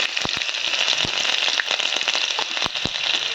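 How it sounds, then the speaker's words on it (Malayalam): Mustard seeds crackling and popping in hot oil in a pan while cooking a clam stir-fry, a dense continuous sizzle with scattered sharp pops, close and fairly loud, no talking. "കടുക് പൊട്ടി"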